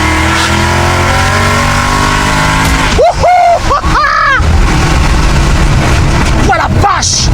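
A Ford Mustang with its exhaust valves opened, revving hard in loud sharp bursts after a steady idle rumble, with a voice talking excitedly under the engine.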